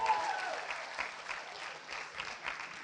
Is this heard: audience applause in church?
yes